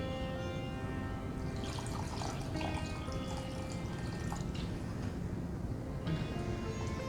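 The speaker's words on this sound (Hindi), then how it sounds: "इसलिए हम इसमें अभी थोड़ा पानी ऐड करेंगे।" Water poured into a pot of dal khichdi as it cooks, a steady splashing trickle that carries on throughout, close and moderately loud, with no one talking.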